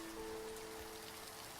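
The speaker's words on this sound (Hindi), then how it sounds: "जब भी बादल अपने साथ इस बारिश को लेकर चले आते हैं" Soft, steady patter of rain falling on a surface, a continuous hiss with a faint sustained tone running beneath it.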